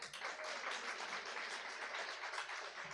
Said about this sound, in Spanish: un aplauso fuerte a los padres